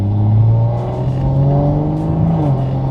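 A Toyota A90 Supra engine with a Magnaflow X-Mod active exhaust accelerates to 60 mph in normal mode with a steady, throaty exhaust drone, its pitch climbing gradually, loud and close.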